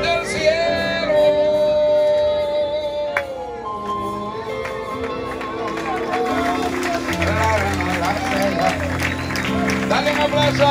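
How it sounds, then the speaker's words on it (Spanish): A Pentecostal church congregation applauds through steady clapping, joined by music and a voice carrying over the clapping at a constant loud level. "Dale un aplauso a él, qué lindo."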